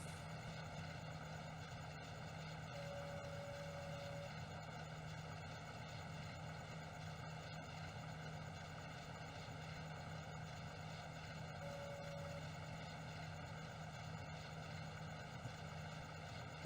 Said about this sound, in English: Get this tractor turned around here at the bottom